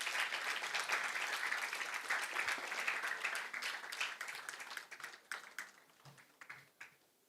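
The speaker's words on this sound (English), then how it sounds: "Let us invite Honorable Justice onto the stage with a big round of applause" Audience applause at a literature festival greets a speaker stepping on stage: dense, steady clapping that holds for several seconds, then thins into scattered individual claps before fading out.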